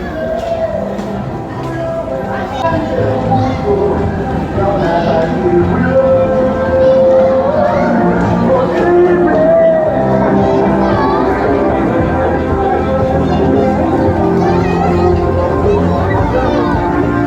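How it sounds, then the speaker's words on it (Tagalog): Dense festival crowd at the Bicol LOCO Festival, a steady roar of chatter, children's voices and general hubbub filling the whole stretch, with nearby people talking over it. "Oh, grabe talaga ang crowd."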